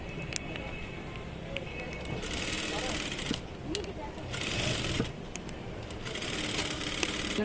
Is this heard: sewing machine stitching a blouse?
yes